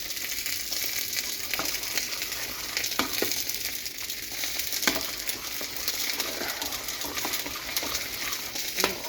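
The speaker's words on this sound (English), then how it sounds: "they're going to go back on the heat for 3 minutes, stirring so it doesn't burn, and we'll have Hollandaise sauce" Hollandaise sauce cooks on the heat with steady stirring, a continuous soft sizzle and hiss broken by faint scraping taps from the utensil, heard close and with no talking.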